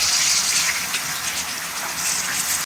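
Tap water gushes steadily while something is washed in a home kitchen during chicken gravy preparation, a broad continuous hiss lasting throughout, close and loud, with no talking.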